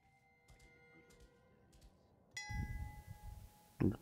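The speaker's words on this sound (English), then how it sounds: "Ding this bell." A metallic bell rings in the Lord of the Rings: Gollum video game, a bright ding with a ringing tail, preceded by faint clicks and followed by a low rumbling thud near the end.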